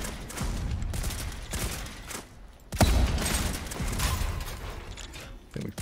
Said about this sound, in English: Okay, let's get the mortar out.